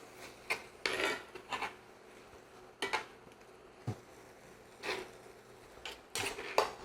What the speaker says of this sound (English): I'm gonna get this mixed on in here like this